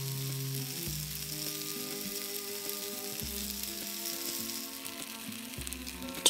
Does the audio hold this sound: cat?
no